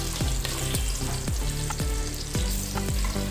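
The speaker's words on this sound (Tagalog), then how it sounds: "Let's fry it to get the flavor together" Cumin seeds and a cinnamon stick fry in hot oil for a homestyle kofta curry, a steady bright sizzle with repeated stirring scrapes of the pan roughly every half second, close and unbroken, with no talking.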